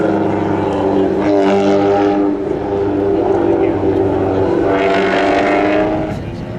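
Mustang and VW cars drag racing side by side at a winter warm-up spectator drag event, a loud sustained engine roar with strong harmonic drone that swells twice, a crowd or announcer faintly beneath.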